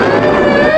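Police car and fire engine sirens wail together in a loud, close, continuous tone that sweeps slowly upward, with a rumbling traffic-like background beneath.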